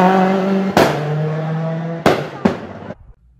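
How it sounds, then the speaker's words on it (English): A small four-cylinder rally car engine revs hard with a buzzing harmonic drone, punctuated by three sharp pops or backfires before cutting off abruptly. "hear a tiny little four-cylinder engine being strangled"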